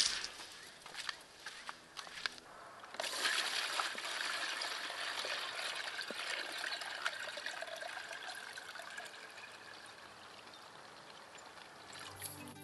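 Water poured by hand over dry strawberry plants in a garden bed, a steady splashing, trickling stream close by that runs continuously for most of the stretch after a few scattered drips and sounds at the start.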